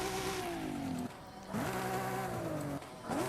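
A Nissan S15 drift car's sport exhaust in Forza Horizon 5 revs and drones, pitch climbing then dropping between gear changes, a steady mechanical roar with brief dips.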